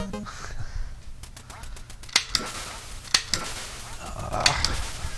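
Light gun shots fired at Duck Hunt on an NES, a few sharp snapping bangs spaced about a second apart over game background sounds and faint room noise, with a duck-like quack near the end.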